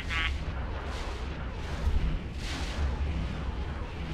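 A dreadnought warship in the X4 space game opens fire with heavy, rumbling cannon blasts that blend into a continuous booming barrage, dense and loud, with no speech.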